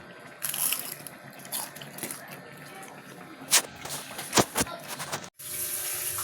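Water runs and splashes into a pot for several seconds, with a few louder sloshes and clanks near the end, close by and fairly quiet.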